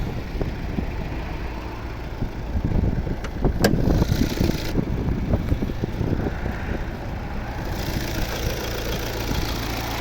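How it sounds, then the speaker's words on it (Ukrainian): A 2016 Volvo V60 with a two-litre four-cylinder diesel engine and automatic gearbox idles steadily at low pitch, a continuous rumble with a brief louder stretch midway, no voices. "Тут у нас двохлітровий дизельний двигун."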